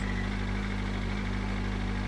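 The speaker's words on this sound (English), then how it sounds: "we are idling at around 1800 RPM" A BMW M1000RR motorcycle fitted with an aftermarket exhaust idles at about 1800 RPM, a steady, close, even low rumble with a constant drone and no revving.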